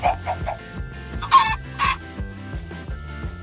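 Chickens in the Minecraft video game cluck in a quick repeating rhythm, with a couple of louder squawks in the middle, close and clear over a few seconds with no talking.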